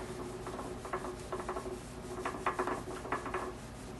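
A hand rubs oil into a wooden surface with quiet, rhythmic back-and-forth strokes in short bursts, faint and close, with no talking.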